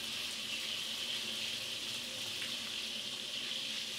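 Water from a kitchen sink pressure sprayer runs in a steady, hissing rush, close and continuous, with no voices over it.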